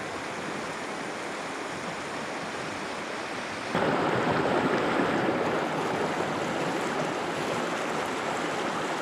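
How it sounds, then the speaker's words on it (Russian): A small mountain river in Altai rushes and splashes steadily nearby, a constant broad wash of water that grows louder partway through, with no voices. "Вот такая красивая речка по пути."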